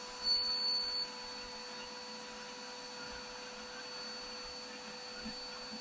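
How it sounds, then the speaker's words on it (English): A vacuum cleaner with a brush attachment, used to clean a dryer lint trap, hums steadily and faintly at low level after a brief louder start. "So I'm going to turn on the vacuum"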